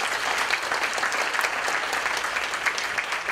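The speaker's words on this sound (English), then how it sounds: "let's give a big round of applause for the speaker" Audience applause at a hydrogen energy symposium, a steady dense patter of many hands clapping throughout, fairly loud and even with no pause.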